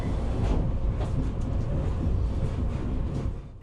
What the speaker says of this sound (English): This teeny little train, known as a Bzmot, is often referred to as Hungary's Pacer